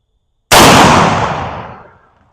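A single loud, close rifle gunshot from a rifle fitted with an ATN X-Sight 5 LRF scope at a shooting range, sharp onset after a short silence, then a long decaying boom.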